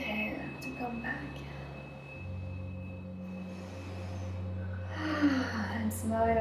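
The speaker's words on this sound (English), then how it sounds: "Take a big inhale to come back." A deep, breathy inhale swells near the end, drawn in during a guided energy-clearing meditation over a steady low hum.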